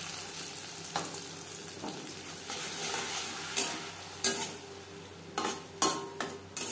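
A pan of fried cumin and green chilli sizzles as poppy seed and peanut paste goes in for a vegetarian spinach dish, with a steady frying hiss broken by several sharp spoon scrapes and clinks against the pan.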